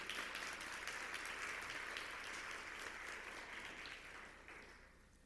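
A church congregation applauds together in a steady, dense wash of clapping that gradually fades toward the end, heard alone without speech.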